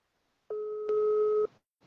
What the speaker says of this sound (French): Ça sonne sur WhatsApp.